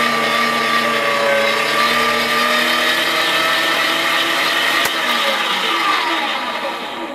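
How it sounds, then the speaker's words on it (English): A meat grinder whirs steadily as it grinds raw turkey hearts for homemade raw cat food. The loud, continuous motor whine holds steady with a faint click partway through and tapers slightly at the end. "This is turkey heart now that I'm grinding"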